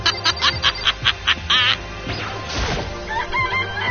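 A chicken in Danganronpa: Trigger Happy Havoc lets out a quick run of about eight evenly spaced clucks, then a louder squawking crow, with game music continuing underneath.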